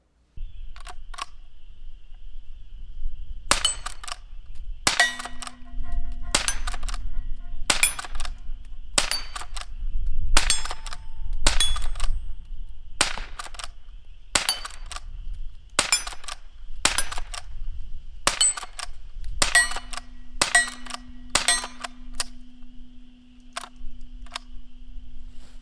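A Rossi Rio Bravo lever-action .22 long rifle fires about twenty sharp, loud shots in a steady, unhurried rhythm, each crack followed by a brief decay and the clack of the lever cycling between rounds, with no talking.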